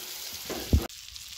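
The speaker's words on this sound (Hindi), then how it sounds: "हमारी मछली बनके एकदम फ्राई तैयार हो गई है" Pomfret fish frying on a hot tawa gives a steady close-up sizzle, with one brief soft thump in the middle before the hiss settles back.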